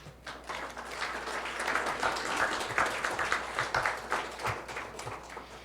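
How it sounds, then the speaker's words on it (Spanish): An audience at an international forum on Indigenous community radio claps together, a sustained wash of moderate applause that swells and then thins out toward the end. "Gracias por los aplausos."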